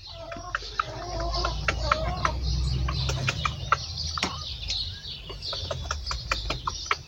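Hens cluck and chatter in a henhouse with a rooster among them, sharp clucks and chirps scattered throughout over a low rumble, no voices.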